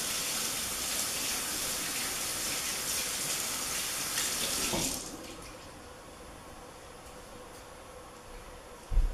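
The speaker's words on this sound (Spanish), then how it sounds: "Lavar las manos y seca las manos." Tap water running steadily into a sink during handwashing, a close continuous rush for about five seconds before it drops to a quieter hiss, ending with a brief knock.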